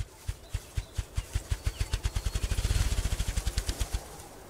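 A male grouse drums its wings in the forest, a series of low, muffled thumps that start spaced apart and quicken into a rapid accelerating roll before stopping, fairly faint and alone.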